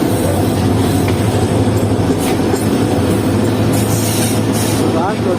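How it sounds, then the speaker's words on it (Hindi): Sir Syed Express train running alongside on the rails, a loud continuous rumble of wheels and carriages with faint squeals and rhythmic clatter, steady throughout. "राज लॉजिस्टिक्स सर सैयद एक्सप्रेस चल रही है बराबर से हमारे।"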